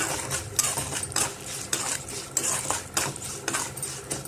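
A utensil mixes rice with tamarind, turmeric and salt in a metal vessel. It makes repeated clinking, scraping strokes in a steady rhythm, close by and fairly loud.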